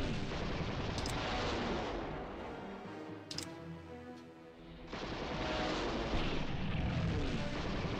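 Bomber strikes in the WWII strategy game Panzer General II, Blitzkrieg campaign at Malta 1941: loud, dense rumbling explosions fill the clip, easing briefly in the middle before swelling back to full roar.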